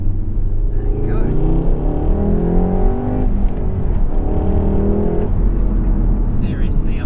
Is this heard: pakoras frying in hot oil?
no